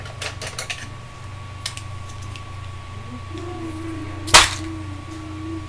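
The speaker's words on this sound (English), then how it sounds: "so I'm going to cut it right about here" Wire cutters snip bracelet beading wire once, a single sharp click close by in a quiet room, with a steady low hum underneath.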